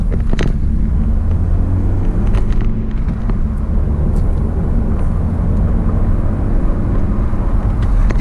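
A GT car climbs a hill on the Campsies under hard acceleration, producing a loud, continuous engine roar and road rumble close to the cabin throughout.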